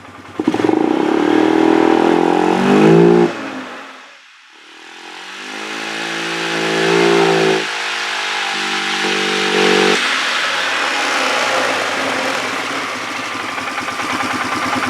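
A 2007 Polaris 500 engine, freshly fitted with a Carter P72118 fuel pump, revs hard and loud, dips briefly toward idle, then climbs and holds high revs with a rough, clattery drone, no talking.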